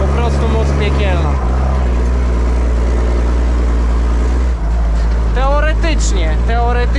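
A Zetor tractor's diesel engine drones steadily and loud at close range, pulling a 5 m harrow, with rising whine bursts near the end and someone talking over it.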